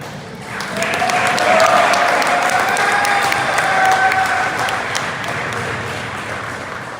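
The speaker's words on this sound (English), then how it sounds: "so they can still receive that round of applause" An audience at a high school applauding varsity athletes, a full, steady round of crowd clapping that swells after a moment and then gradually eases, with a faint tone and murmuring voices underneath.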